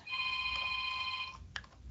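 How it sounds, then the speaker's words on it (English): A telephone rings with a single sustained electronic trill lasting just over a second, fairly close and clear, then breaks off into quiet room noise. "It's the phone, oh dear."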